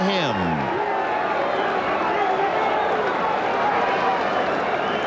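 A baseball crowd at Coors Field roars steadily during a 1996 game, a dense, loud, continuous wash of cheering that fills the whole stretch, with a voice talking over it.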